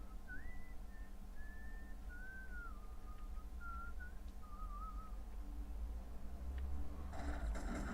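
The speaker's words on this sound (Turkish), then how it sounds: "Aşağıdan geliyor sandım ıslık sesi de" A thin, wavering melodic whistle in the video game Max Payne 2 drifts through a steady background hum, phrases rising and falling for several seconds before a burst of noise cuts in.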